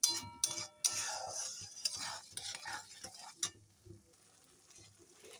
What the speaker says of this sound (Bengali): এখন ভালো করে নেড়ে দিই।